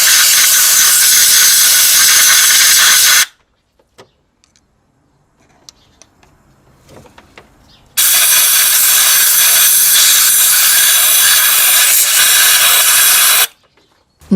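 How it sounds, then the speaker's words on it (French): Compressed air is blown into an engine's fuel injector well, with the bottom of the bore plugged by a Phillips screwdriver. Two long, loud, steady hissing blasts of about three and five seconds are separated by a quiet pause with faint handling noises. "et soufflez pour éliminer les impuretés."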